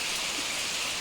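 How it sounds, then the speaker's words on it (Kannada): Steady rain with hail pours down in a dense, even hiss of drops striking surfaces, continuous and close with no voices. "ಮಳೆ ಅಂತೂ ಮಸ್ತ್ ಅಂದ್ರೆ ಮಸ್ತ್ ಆಯ್ತು"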